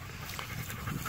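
A dog pants quickly and steadily at close range, soft rhythmic breaths with no talking over them.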